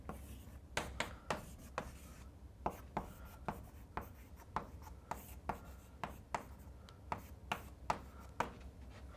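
Chalk or marker strokes on a board during a university lecture on intelligent systems, sharp regular taps and scrapes at close range, spaced about half a second apart with little talking.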